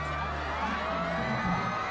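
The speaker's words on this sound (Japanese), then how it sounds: "歓声で聞こえないという状況かもしれません" A large roadside crowd at Yuzuru Hanyu's figure skating victory parade cheers and shouts in a steady, distant roar, with a broadcaster's voice partly audible underneath.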